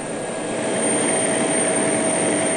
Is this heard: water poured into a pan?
no